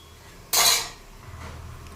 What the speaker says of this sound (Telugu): ఇక్కడ పందరపాకం కొంచెం కలుపుకుందామండి